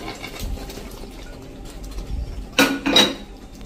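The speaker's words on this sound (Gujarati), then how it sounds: "તો હવે જે આપણે આ પરવળ લીધા છે ને એ પરવળ આપણે આ રીતે એક એક કરીને મૂકી દેશું" Stuffed pointed gourds set one by one into gravy in a pan, giving two sharp clinks and knocks of utensil against cookware over a faint background hum.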